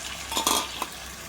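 A spoon scrapes and stirs eggplant and drumstick pieces into sizzling onion and tomato in a pan, two or three short clattering strokes over a steady frying hiss.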